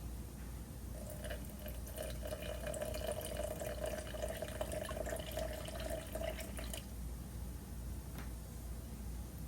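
Filtered water poured into a jar sitting on a kitchen scale for an einkorn sourdough starter, a steady close trickle lasting several seconds before it tapers off, with no talking.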